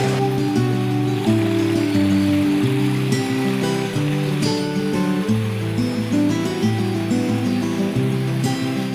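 Water from a backyard water feature spills and splashes continuously over boulders, a steady close rushing with bubbling texture throughout.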